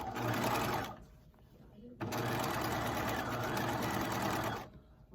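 A sewing machine runs a parallel gather stitch along a skirt seam in two close, steady runs with a brief slowdown between them, while a voice talks over it.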